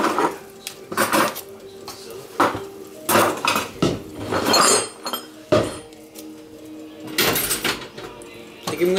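Food is stirred in a pot with a utensil during home cooking with friends, giving repeated loud metallic clanks and scrapes in irregular bursts, with voices talking in between.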